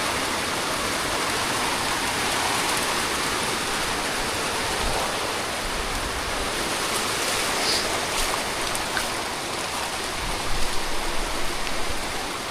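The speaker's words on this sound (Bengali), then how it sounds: "বৃষ্টি কিছুটা কমতেছে এখন" Heavy rain pours down in a steady, dense wash of noise that stays loud and unbroken throughout, with no voices over it.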